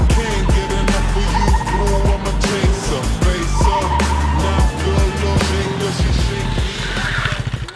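A KTM Duke 390 set up in supermoto mode brakes hard, the engine revving and downshifting loudly up close while the rear tire chirps and skids in short bursts.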